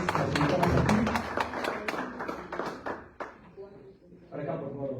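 Audience applause ringing out at a ceremony as a doctor is called up to the podium: dense clapping that stays steady, then thins and fades, with a voice speaking near the end.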